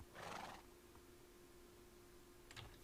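A horse neighs in Minecraft, a faint, short whinny at the start followed by a brief second snort-like call near the end over a quiet low hum.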